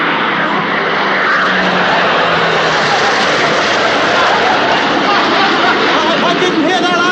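Subway train roaring overhead, a loud sustained broadband rumble and roar filling the whole stretch at steady intensity, close and overwhelming.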